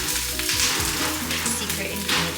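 Onions frying with chili lime seasoning in a pan, a steady close sizzle with faint stirring taps and scrapes over a low background hum.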